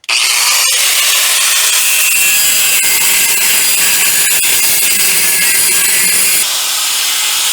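A power tool cuts through aluminum 6-71 supercharger case parts for an LS engine build in a shop. The cutting is loud, harsh and continuous, running close and unbroken for several seconds, with slight shifts in tone partway through.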